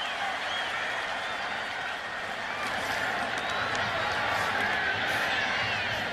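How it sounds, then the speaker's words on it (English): A football stadium crowd at a 2009 Tennessee vs Ole Miss game in Oxford keeps up steady, dense applause and crowd roar for the whole stretch, broad and distant-sounding, with a commentator's voice faintly mixed in. "and the crowd applause."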